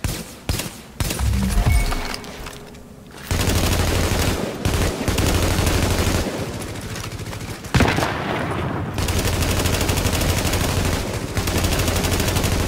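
Sustained gunfire in The Division video game, a dense stream of rapid shots and bursts running nearly the whole time with brief gaps, loud and close, with no talk over it.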